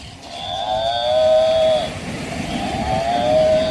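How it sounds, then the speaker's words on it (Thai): A buffalo lowing loudly and close, two long drawn-out moans separated by a brief pause, over a rumbling background. "ใช่เสียงของควายไหมเอ่ยบัฟฟาโลควาย"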